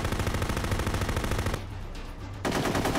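Gunfire in the Full Spectrum Warrior video game: sustained rapid automatic bursts, loud and close, with a brief lull before the firing resumes.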